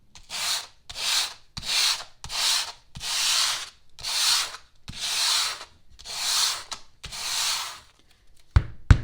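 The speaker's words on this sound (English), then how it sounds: "So take a 4000 grit sandpaper and sand the canvas lightly." Fine sandpaper of 4000 grit lightly sanding a gesso-primed canvas, a series of about eight soft, airy scrubbing strokes in steady rhythm, close and clear with brief pauses between passes and a couple of small taps at the end.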